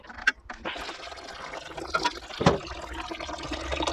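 Water runs and gurgles out of a Big Blue filter housing as its pressure is released, a close, uneven splashing flow with a few sharper spurts and drips.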